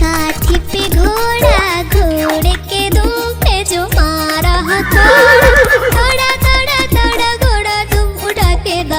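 Horse neighs and whinnies woven through a lively Hindi children's song about a wooden horse, with sung vocals, a steady beat and music throughout, loud and upfront.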